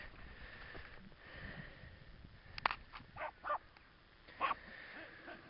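Along the Cornwall coast path, a small dog named Scruffy gives a few faint, distant barks in short bursts over quiet wind and outdoor ambience.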